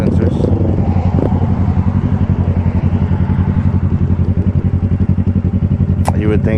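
Four Honda Grom motorcycles and one larger bike sit idling close together at a stop, a dense, steady, pulsing engine rumble with a voice talking over it.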